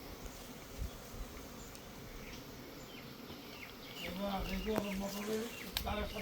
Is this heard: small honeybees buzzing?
yes